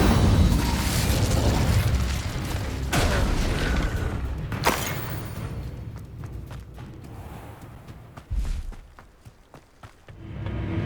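Incendio fire spell cast in Hogwarts Legacy: a sharp fiery burst and boom erupts over rumbling game ambience, then fades into creaks and scattered thumps.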